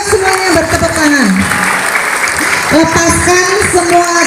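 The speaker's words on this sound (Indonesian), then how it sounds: "Semuanya bertepuk tangan, ayo semuanya bertepuk tangan." Loud, sustained applause from a crowd of junior high school students at a school opening event, continuous clapping filling the whole stretch with a voice talking over it.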